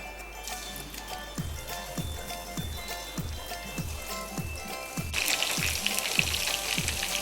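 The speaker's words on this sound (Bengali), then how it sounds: "এবার আমার তেলটা গরম হয়ে গেছে, আমি চিকেনগুলো ফ্রাই করে নেব।" Chicken pieces fry in hot oil for a honey chicken dish, giving a steady close sizzle with a rhythmic low thumping underneath, and the crackle swells louder near the end.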